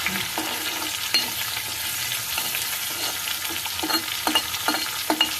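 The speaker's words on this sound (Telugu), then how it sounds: "ఇంగు వేసుకుని కొంచెం బాగా వేయించుకోవాలన్నమాట" Asafoetida fries in hot oil for a coriander pickle, a close, steady sizzle broken by repeated scraping stirs and small clinks of a spoon against the pan.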